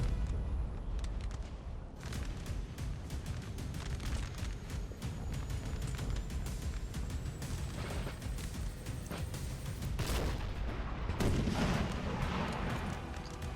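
Artillery cannon fire from 6- and 9-pounder guns in a Napoleonic-era battle in the strategy game Napoleon Total War, with dense overlapping booms and rumbling volleys rolling continuously, heavier bursts around the middle and toward the end.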